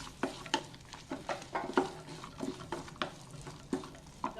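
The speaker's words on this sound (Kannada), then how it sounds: "ಫ್ರೈ ಮಾಡೋಣ." Chilli powder, coriander powder and turmeric frying in a pan for cowpea pulao, with soft sizzling under repeated light scraping strokes of a spoon, close but quiet and without voices.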